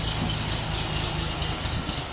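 Orion 244 mini tractor engine running, a rough, rattling idle with a steady low mechanical throb heard up close, heavy and continuous over about two seconds.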